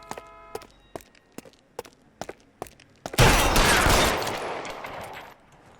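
A series of sharp single gunshots in LA Noire snap out at an uneven pace, followed by a loud, sustained roaring burst that slowly fades.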